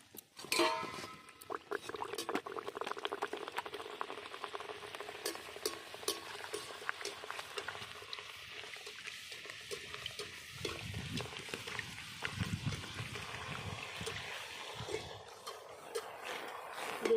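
Luchi, a Bengali fried bread, crackling in hot oil, a steady soft sizzle with fine popping and bubbling that fades slightly, close by with no speech.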